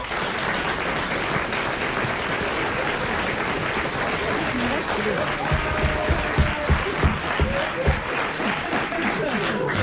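Sustained audience applause in a radio studio for a comedy talk show, continuous dense clapping with some voices and laughter mixed in underneath.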